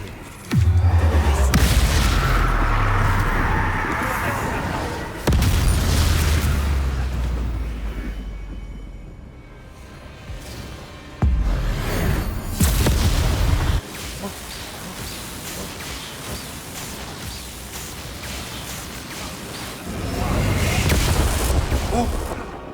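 Spell explosions in the Hogwarts Legacy video game, a series of deep booming blasts with low rumbling tails spread across the stretch, loud and close, some overlapping, with a voice talking over them.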